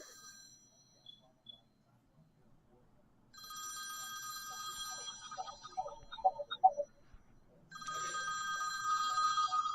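Ringing telephone during an outgoing call to Kelly: repeated electronic ring bursts come in long stretches, a brief gap between them, with faint voices and clicks beneath.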